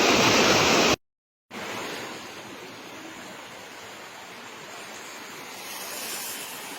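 Floodwater from hill torrents in Dera Ghazi Khan pours across a submerged road in a steady, broadband rushing roar, briefly cut to silence near the start and then continuing evenly without voices.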